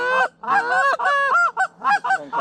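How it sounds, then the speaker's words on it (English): Geese honk loudly and close during a field goose hunt, a rapid string of nasal calls in quick bursts with short gaps, heard without talk. "Too many geese?"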